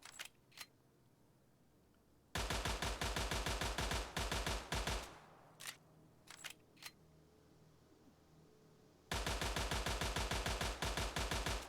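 A Walther pistol in S.T.A.L.K.E.R. fires at 430 rounds a minute from a 16-round magazine: loud, rapid full-auto bursts with a few single shots in between and short quiet gaps.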